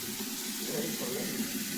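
Water rushes fast from a tap while a container fills in the Konkan countryside in the morning, a close, steady, unbroken gush.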